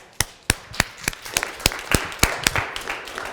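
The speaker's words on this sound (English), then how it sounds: "Round of applause for Toby." A small audience applauds for Toby, with sparse, evenly spaced sharp claps ringing out fairly close over about three seconds, with no talking.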